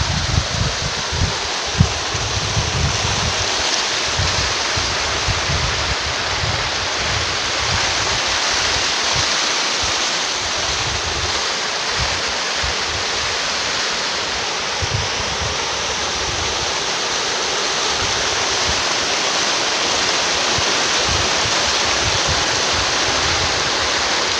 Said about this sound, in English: The waterfalls.